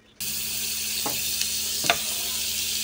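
Butter and garlic sauté in a pan for buttered shrimp, giving a steady close sizzle that starts abruptly and runs throughout, broken by two brief scraping stirs.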